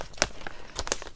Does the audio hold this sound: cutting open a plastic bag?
yes